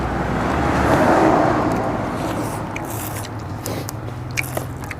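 Close crunching and biting of crunchy chicken feet in a spicy papaya salad, loud at first then easing into softer chewing with a few sharp clicks.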